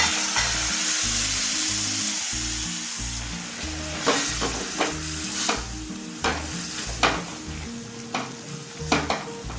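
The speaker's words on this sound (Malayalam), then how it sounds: "ഇതൊന്ന് എണ്ണയിലൊന്ന് മൂപ്പിക്കണം" Cowpeas fry in hot oil with crushed chili and turmeric, giving a constant close sizzle punctuated by repeated scraping and stirring knocks from a utensil in the pan.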